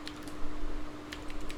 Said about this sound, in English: Now I am typing network, enter ping.